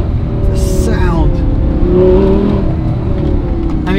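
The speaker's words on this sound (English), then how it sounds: "it is a specially developed exhaust just for this car with the valves" An Audi R8 engine revs loudly and steadily through its specially developed valved exhaust, a deep throaty drone rising and falling, with a voice speaking briefly over it.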